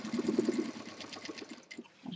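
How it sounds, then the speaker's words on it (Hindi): A sewing machine stitches a belt onto a fabric college bag with a fast, rhythmic mechanical whirring and tapping, close and steady for about two seconds before slowing and pausing briefly. "बेल्ट को अंदर की तरफ रखते हुए सिलाई कर दीजिए और यहाँ एक बार फिर मशीन चलाइए"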